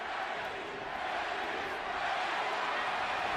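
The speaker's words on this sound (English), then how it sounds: "Pacquiao crowd chanting Manny, Manny, Manny." A large crowd at a Pacquiao–Morales boxing fight roars and chants in a dense, continuous wash of voices, heard at a distance and fairly faint.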